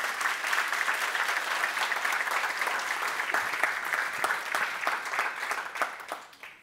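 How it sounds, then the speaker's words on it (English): Sustained audience applause fills a conference session on personal branding, a dense steady clatter of many hands clapping at close range that holds for several seconds and then thins out toward the end. "can you give Leslie a little round of applause?"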